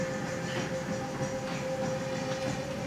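A Eurostar high-speed train runs steadily with a constant rumbling roar and a sustained tonal whine, evenly loud throughout with no pauses.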